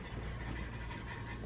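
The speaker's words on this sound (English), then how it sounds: "I guess my dogs decided to join me." Dogs panting steadily and close by, a continuous breathy huff with faint whimpers, while a person talks over it.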